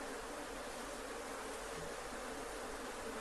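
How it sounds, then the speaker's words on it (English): A faint, steady buzz of killer bees flying in the air hums continuously at low level without any voices. "these flying bees in the air, we call these remnant bees"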